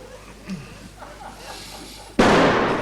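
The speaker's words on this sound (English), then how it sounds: "It's probably just Mr. Mutby shooting an intruder." A single loud, sharp gunshot-like blast bursts out near the end after quiet room tone, ringing on briefly before fading.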